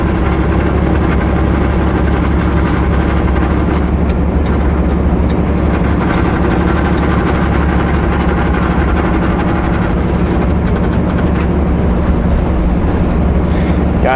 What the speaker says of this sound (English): the vibration comes from the steering column. The plastic there is rubbing against itself, and it makes this crazy vibration that's so obnoxious